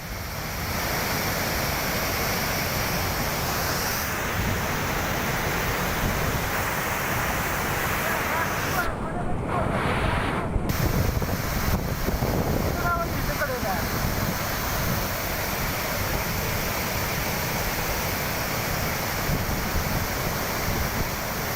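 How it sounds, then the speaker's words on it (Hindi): Floodwater rushes in a loud, steady broadband roar during heavy rain in Mahabaleshwar, Maharashtra, running continuously for the whole stretch with a brief dip near the middle. "पानी देखिए ऐसा बहता दिख रहा है मानो वहां कोई झरना बह"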